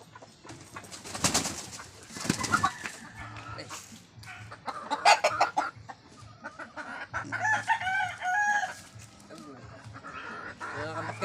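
A young rooster (stag) in a backyard crows and clucks in bursts, with other birds chirping nearby and a person speaking at times.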